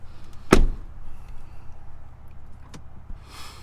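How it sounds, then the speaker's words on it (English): A single sharp door slam on a 2024 Ford Ranger Raptor pickup, heard from inside the cab, followed by a few faint clicks and a soft low rumble. "Let me shut the door so you can see it."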